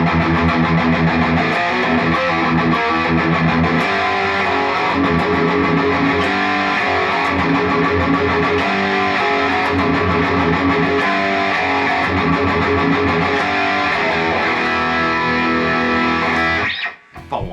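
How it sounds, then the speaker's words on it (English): Heavily distorted Les Paul electric guitar chugs and rings continuously at a loud, steady level, then cuts off abruptly at the end. "That Les Paul sounds great with distortion."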